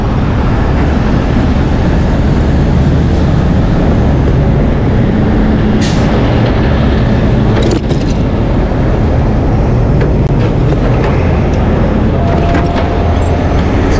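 Tow truck backing up underneath a jackknifed truck on a freeway: a loud, steady diesel engine roar with road rumble throughout, a few sharp hissing bursts and faint beeps mixed in, and occasional voices under the noise.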